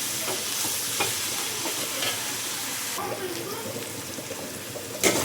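Onions sautéing with rock salt in a pan for crab curry, a continuous close sizzle broken by scraping stirs and occasional clinks of the spatula against the pan.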